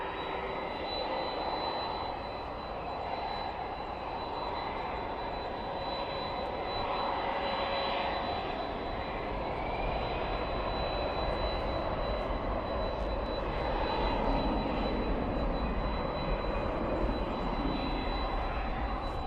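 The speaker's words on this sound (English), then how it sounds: "Oh, I love that engine sound." A jet airliner's engines roar steadily at Dallas/Fort Worth International Airport at night, a continuous broad rumble with a thin high whine that swells slightly as the aircraft passes, with no talk.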